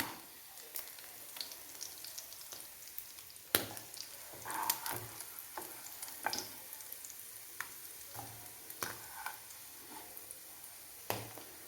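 Dried fish fries in oil for a pickle, giving a quiet steady sizzle broken by scattered sharp ticks and clinks from a ladle moving through the pan over several seconds.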